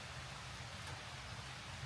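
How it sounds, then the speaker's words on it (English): Steady rain falls outdoors during firewood and sawlog harvesting, a constant soft hiss of drops at low level with no speech or other distinct sounds. "I don't really want to be doing this in the rain."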